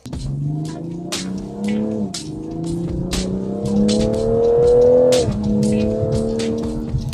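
A 2026 Toyota Supra accelerating hard with traction and stability control off: a loud close engine climbing through rising revs, a brief dip at a gear change, then pulling up again with faint tire noise.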